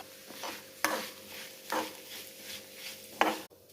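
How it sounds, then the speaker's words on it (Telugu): Flattened rice (atukulu) stirred and lightly fried in oil in a small kadai, with repeated scraping stir strokes over a steady soft sizzle, close and moderately quiet, no talking. "ఆ తర్వాత ఒక కప్ అటుకులు తీసుకొని అదే ఆయిల్లో ఇలా లైట్గా ఫ్రై చేసుకోవాలి"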